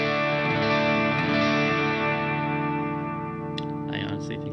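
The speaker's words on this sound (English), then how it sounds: "here's a small hall reverb added" Electric guitar played through a Fender Tone Master Pro with a small hall reverb, sustained distorted chords ringing loud and steady, then fading into a short reverberant tail near the end.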